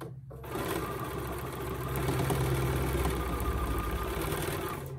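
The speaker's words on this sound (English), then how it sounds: "And we're just going to stitch." Sewing machine stitching lines through fabric layers for a casserole coaster, a close, steady rapid mechanical hum and needle chatter running continuously after a brief pause at the start.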